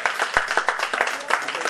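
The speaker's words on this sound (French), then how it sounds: "On les applaudit," Audience applause at a thank-you ceremony held by Wêhons Leaders France: a steady patter of many hands clapping with sharper individual claps standing out, fairly close and continuous through the moment.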